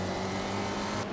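Race cars in iRacing at Brasília drone past in a continuous, loud engine roar with layered tones, the sound cutting off abruptly near the end.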